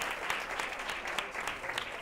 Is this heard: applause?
yes